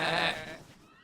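A cartoon sheep gives one short, nasal bleat that fades out within about a second, close and clear.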